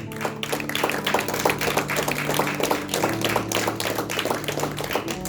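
A crowd claps steadily in a dense, continuous round of applause at a church service, fairly close, with a faint voice underneath.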